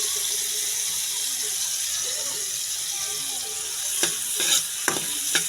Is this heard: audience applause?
no